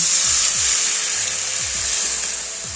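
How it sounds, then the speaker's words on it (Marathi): Buttermilk hits a hot spice tempering for a rice-flour ukad, throwing up a loud, continuous hiss that fades slightly toward the end, with a few faint low scrapes underneath. "आता ही फोडणी छान खमंग झाली, यात घालायचं ताक।"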